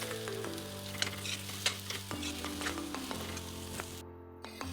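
Chopped capsicum sizzles in a hot pan for a simple capsicum palya, a steady close crackle broken by a few sharp scraping stirs, with no talking.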